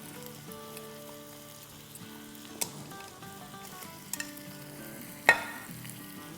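Onions and garlic sizzle and fry in a hot pan, a bright crackling hiss with scattered pops and a few sharp clinks of a utensil against the pan, close and steady with no talking.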